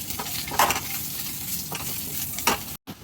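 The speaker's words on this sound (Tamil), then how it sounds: "இதையும் நல்லா வதக்கி வைக்கலாம்" A steady sizzle of spices sautéing in a hot frying pan for egg gravy, with a spoon scraping and stirring a few times, close up and continuous.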